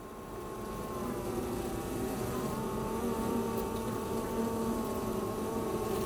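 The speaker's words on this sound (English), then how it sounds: "Bees are quite fascinating." Honey bees at a hive in Paris buzz in a dense, steady droning hum that fades in and then holds constant, close and continuous with no voices.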